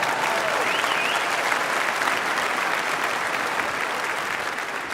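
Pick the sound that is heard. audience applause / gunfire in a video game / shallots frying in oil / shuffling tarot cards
audience applause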